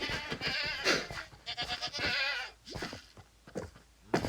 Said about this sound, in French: Ah, il y a une chèvre.